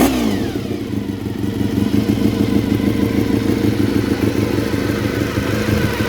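A 400cc motorcycle engine with programmable ignition and a stock 14,500 rpm redline revs loudly and steadily, close up, with a sustained high-pitched engine note and no voices.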